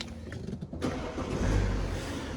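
A BMW 435d xDrive M Sport coupe diesel engine cranks and fires up, settling into a steady idle that fills the cabin, with no voices.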